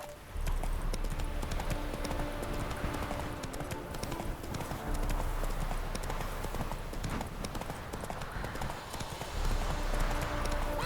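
A horse's hooves gallop in The Witcher 3: Wild Hunt, with a rapid, steady clip-clop thudding continuously and close, rising and falling slightly in loudness over about eleven seconds.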